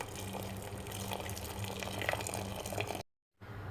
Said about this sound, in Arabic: بصب الحين الماء الحار